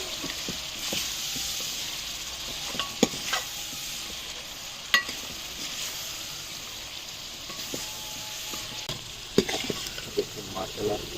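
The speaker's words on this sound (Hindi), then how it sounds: "तो बीफ को अभी हम यहाँ पर अच्छी तरह से भून लेंगे।" Beef with yogurt fries in a karahi, hissing and sizzling steadily up close while a spoon scrapes and knocks against the pan now and then.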